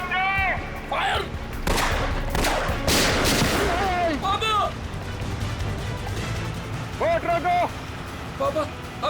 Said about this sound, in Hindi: फायर!